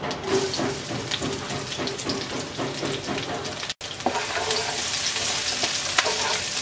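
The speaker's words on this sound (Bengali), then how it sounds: "শুকনো মরিচটা হালকা একটু ভেজে নেব। দিয়ে দিচ্ছি 1/2 চা চামচ কালো জিরা। দিয়ে দিচ্ছি 5 কোয়া রসুন কুচি।" Chopped garlic, half a teaspoon of black cumin and dried chili fry in hot oil, a loud, steady, close sizzle that runs continuously with a brief dip midway.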